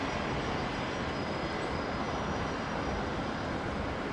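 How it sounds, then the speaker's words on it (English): A C-130J Hercules military transport arriving at Brisbane International gives a constant, wide engine drone with a faint high whine on top, distant and unbroken. "And the next arrival is the Herc, number 2 for the day."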